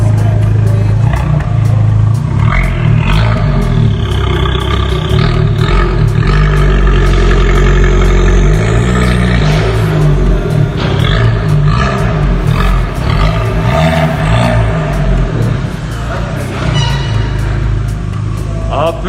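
A small Fiat 500 petrol engine runs loudly and steadily, a continuous throaty rumble with a rough, buzzing edge that holds for the whole stretch.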